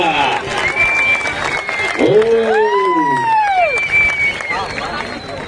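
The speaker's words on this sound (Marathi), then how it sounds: "टाळ्या वाजवा" A wrestling crowd at a match in Pune claps and cheers in a dense wall of noise, with loud rising and falling whistles cutting through and voices shouting close by.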